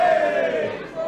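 A wrestling crowd at a live event in Newcastle cheering for a favourite wrestler, a loud sustained roar of many voices that swells and stays dense throughout.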